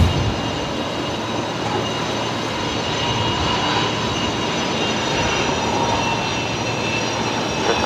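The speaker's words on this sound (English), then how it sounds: "It's a Fokker 70." A 30-year-old Air Niugini Fokker 70 jet departs Brisbane's runway 19 right, its engines a loud, steady, broadband roar with a thin high whine, continuous throughout and free of talk.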